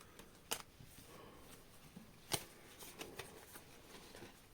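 Tarot cards are shuffled softly by hand, with faint papery riffles and a few sharper slaps scattered across a few seconds in a quiet room.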